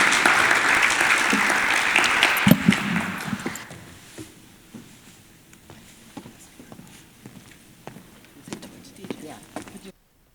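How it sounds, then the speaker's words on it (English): Audience applause for a mayoral candidate at a live televised forum, loud and dense for about three seconds, then thinning to scattered claps and footsteps as a voice talks over it. "So give her a round of applause"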